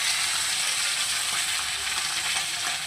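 Pumpkin fries in hot oil with tempered spices and is stirred in a pan, making a dense, continuous hiss and crackle at an even level with faint stirring movement throughout.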